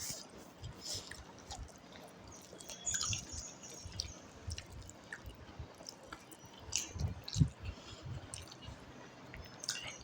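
Someone eating mutton biryani with curd poured over it, soft wet squishing and chewing sounds up close in irregular bursts, with a few quiet clicks and faint background noise.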